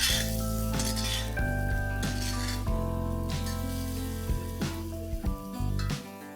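Okra cooking in a pan with amchur powder stirred in: metal utensils clink and scrape against the pan in repeated strokes over a soft sizzle, close and clear, with no talking.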